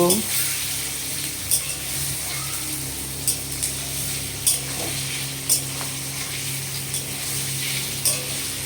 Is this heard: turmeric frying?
yes